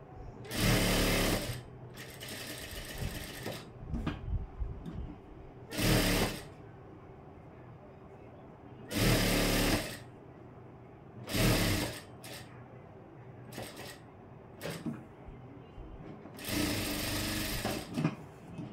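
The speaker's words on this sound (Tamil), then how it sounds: "யோக் பட்டியை வந்து இப்படி சுற்றி ஒரு தையல் ஒன்று போட்டுறேன்" A sewing machine stitches around a blouse yoke strip in repeated loud bursts of a second or two each, separated by short pauses filled with fabric handling.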